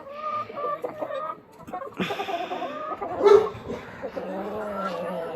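Chickens cluck close by while a rooster calls, with people talking at the same time.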